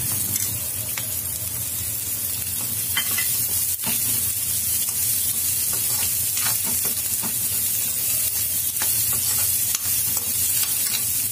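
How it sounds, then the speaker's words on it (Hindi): Mixed vegetables lightly frying with onion in a pan for vegetable dalia: a steady, close sizzle with scraping stir strokes throughout, no voices. "उनको हल्का फ्राई करेंगे।"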